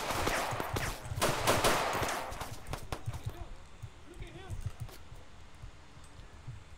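Video game gunfire in a Bronx police roleplay: rapid bursts of shots in the first few seconds, followed by quieter scattered pops, with people talking over it.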